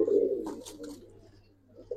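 Male pigeons coo in a low, throaty burst at the start, close by and fairly quiet, followed by a faint pause and a soft call near the end.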